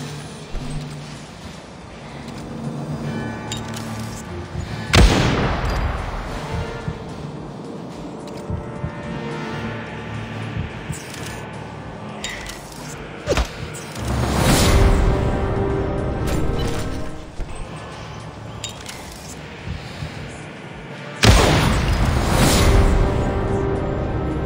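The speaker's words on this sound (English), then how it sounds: "Gunshots." Sharp booming video game gunshots ring out at intervals, a few heavy blasts with echoing tails over a constant noisy background.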